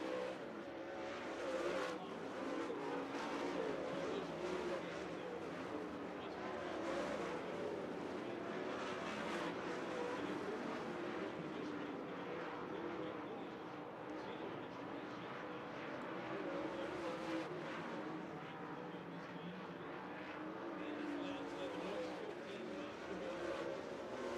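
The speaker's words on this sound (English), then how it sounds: "Watch him lay that car over coming out of turn number 4." MLRA feature race at Thunderbird Speedway, with a pack of race cars roaring continuously around the track, engines droning and surging close and loud for the whole stretch.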